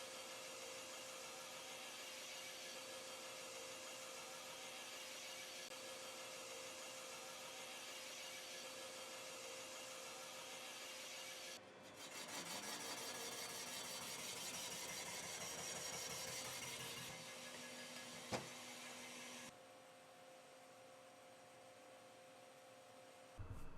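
A boring machine cutter machining the cylinders of a 396 big block Chevy engine block, a steady mechanical whine and rumble that shifts in tone partway through as the cutter moves between bores, with no talk.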